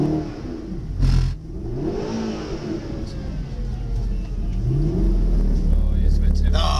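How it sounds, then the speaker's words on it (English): Mercedes-Benz SLS AMG engine revving hard on a track during drifting laps, a loud rumbling roar rising and falling in pitch, close up with speech over it. "let's do one more lap of drifting"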